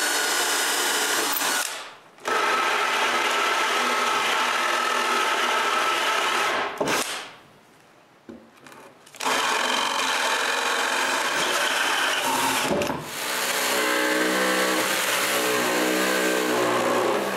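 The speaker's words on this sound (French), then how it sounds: "je perce le trou, c'est la partie du haut de la table" A power drill bores a hole through the wooden top of a homemade band saw table. It whirs loudly and steadily in long runs, broken by short pauses near the start, in the middle and later on.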